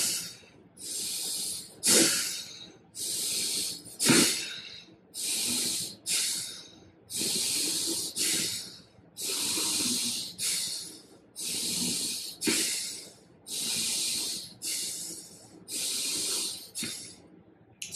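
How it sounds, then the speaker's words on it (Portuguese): Forceful blasts of air and saline out of the nose during a nasal rinse, about a dozen loud hissing bursts repeating roughly every two seconds, close and with no talking. "e solta forte o jato pelo nariz"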